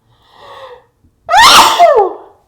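A loud, close sneeze bursts out alone after a faint breathy intake, one sharp explosive burst with a trailing vocal tail.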